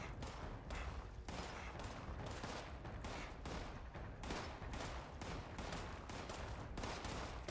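Continuous fusillade of gunfire during the Radiation Rumble event in Fallout 76, with dense overlapping shots and bursts crackling steadily for several seconds at close range, loud and unbroken.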